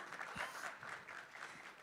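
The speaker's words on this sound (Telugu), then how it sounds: "అది చప్పట్లు ఫర్ ఊహా." Audience applause for a young child artist named Ooha on stage at an event, a steady wash of clapping from a crowd filling the clip without a break, moderately loud and even.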